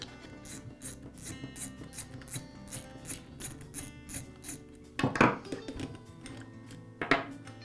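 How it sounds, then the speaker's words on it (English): A bolt is being worked loose from the connecting rod of a Porter Cable air compressor: quiet, steady metallic clicking and scraping up close, then two sharper clunks near the end. "I can go ahead and remove the bolt that connects the connecting rod"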